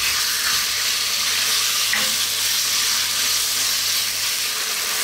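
Thinly cut chicken breast stir-fried in a pan, giving a loud, continuous sizzle with steady hiss and the occasional stir, and no voices.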